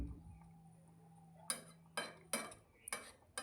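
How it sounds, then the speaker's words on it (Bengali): Egg omelettes are dipped into curry gravy in a pan, and a metal utensil gives several sharp, close clinks and scrapes against the cookware after a quiet opening. "ভালো করে অমলেটগুলোকে ঝোলের মধ্যে একটু ডুবিয়ে নিচ্ছি"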